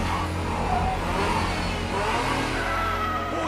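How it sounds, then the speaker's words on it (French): An anime street-racing car engine revs and accelerates with a steady, loud mid-pitched drone that holds throughout, with no one speaking over it. "Oh, c'est la voiture du jeune Takahashi."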